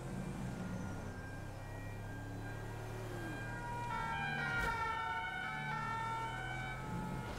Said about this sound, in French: Il y a plein de deux-tons là qui passent de partout là.